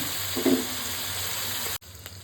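Fried fish and coriander go into a pan of hot oil, giving a steady sizzle with a brief louder burst of frying that cuts off abruptly near the end.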